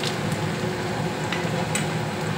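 Cashews sauté in a hot pan for paneer gravy, giving a steady close sizzle with a few faint scraping clicks from stirring.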